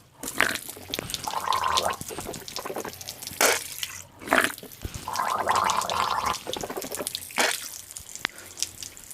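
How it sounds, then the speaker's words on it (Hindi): A person gargles water during ablution before prayer, with bursts of wet throat gargling between splashes and drips of running tap water, fairly close and alone without talk. "अगर रोज़ादार ना हो तो गरगरा भी करेंगे इस तरीके से"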